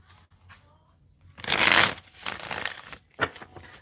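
Tarot deck shuffled by hand, one loud riffling burst of cards followed by softer shuffling and a short final riffle, close up.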